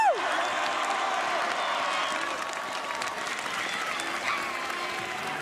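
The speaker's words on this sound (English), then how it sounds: "give a huge round of applause for Melvin Seliberg" Crowd applause and cheering in the finish area of a Red Bull Unrailistic ski rail competition, greeting skier Melvin Seliberg; steady, dense clapping fills the whole stretch with a few whoops rising above it.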